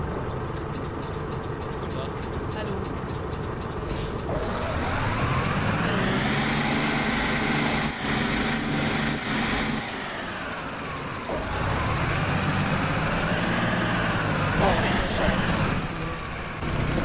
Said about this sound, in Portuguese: O busão, ele tá freando sozinho, do nada.